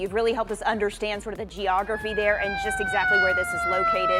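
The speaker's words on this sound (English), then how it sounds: "You can hear a siren now in the background" A siren wails steadily in the background of a live news broadcast covering fast-moving wildfires southwest of Dallas, Texas, its rising tone sustained under continuous talking.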